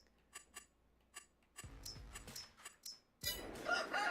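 Chickens in the farming video game Farming Simulator 22 cluck in scattered short calls, followed by a louder burst of squawking and rustling toward the end, fairly close with no talk.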